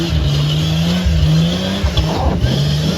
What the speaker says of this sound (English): When I hit third gear, passenger front tire started spinning because the posi lock kicked in.